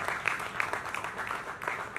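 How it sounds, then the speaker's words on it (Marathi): A brief burst of crowd clapping at a Marathi film trailer launch honors the producers, several sharp claps standing out within a short, busy round of applause. "एकदा प्रोड्युसरसाठी एकदा जोरदार टाळ्या"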